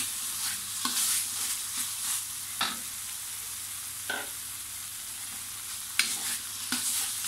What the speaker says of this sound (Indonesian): bagian dalam tahu tadi saya masukkan saya tumis sambil dihancurkan